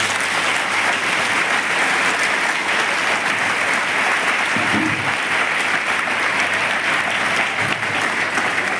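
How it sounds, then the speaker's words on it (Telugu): An audience at a personality development program claps continuously for about nine seconds in a dense, even round of applause with a few louder claps. "So, everybody put your hands together."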